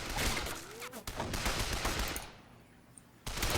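Machine-gun fire in the strategy game Men of War: Condemned Heroes during a trench assault: dense rattling bursts that break off briefly, thin out into a lull, then return in a loud final burst.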